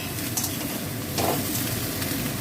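Thin-cut potato and pointed gourd strips frying in a pan, a steady close sizzle with crackling and occasional stirring scrapes, continuous and fairly loud with no talking.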